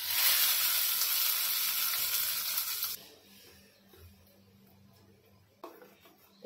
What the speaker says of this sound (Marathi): आपण गॅस बंद करून टाकूया आणि फोडणी टाकून घेऊया